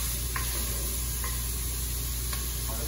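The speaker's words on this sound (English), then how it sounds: "So, got our onions going. They're going to stir until they're just a little bit translucent." Onions sizzle in a hot pan for risotto, a steady frying hiss heard close up, with a few soft scraping clicks as a utensil stirs them.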